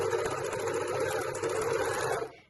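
An overlocker trims and finishes the raw seam edge where a gathered skirt joins the bodice of a dress, running in a fast, steady buzzing whir that stops abruptly near the end.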